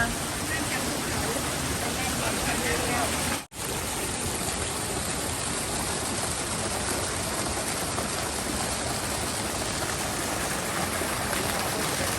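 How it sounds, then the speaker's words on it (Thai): Water falls from higher ground into a tilapia fish pond at Betong, a steady, close rushing and splashing that continues without pause, with a brief dropout partway through. "น้ำจากข้างบนมาเลย ไหลมา"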